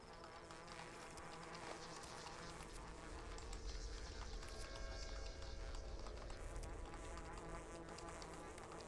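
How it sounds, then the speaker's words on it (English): Constant insect-like creature buzzing in the video game Pathologic 2, a steady dense drone layered with other ambient game sounds that runs unbroken through the whole stretch. "You mean the constant buzzing?"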